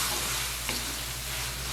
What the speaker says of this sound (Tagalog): Yan, haluin lang po natin ng haluin.